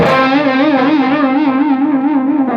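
A single distorted electric guitar note is held with a wide, slow vibrato that swings the pitch up and down, loud and sustained with some echo.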